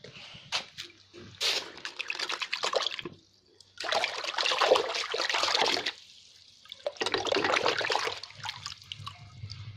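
Hot aluminium casting quenched in water, a first-attempt cast, giving three bursts of hissing, bubbling sizzle separated by short quiet gaps, close and fairly loud.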